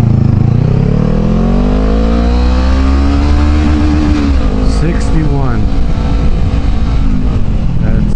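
A Honda CBR500R motorcycle fitted with a Bulldog Badger exhaust, bumped off the resonator, revs hard through first gear with a loud, rising engine note that climbs steadily before backing off near the end, close to the microphone.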